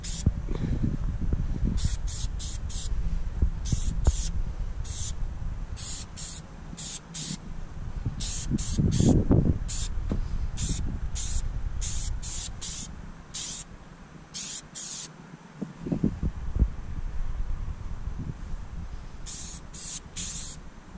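Bursts of aerosol spray paint hiss onto car side skirts and a front lip, about a dozen short, sharp blasts of varying length, close by, with low handling noise and rustling between them.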